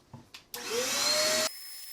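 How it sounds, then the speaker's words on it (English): A DataVac electric duster blows dust out of a PC case: a couple of soft clicks, then a loud, close, rushing blast with a rising motor whine that runs for about a second and cuts off abruptly. "we're going to break out the data vac so I can give this thing a quick cleaning"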